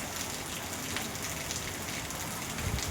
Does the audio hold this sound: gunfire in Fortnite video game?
no